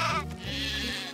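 A sheep bleats in the Craft The World video game, one long, wavering, nasal cry that stays loud and close throughout, with no other sounds alongside it.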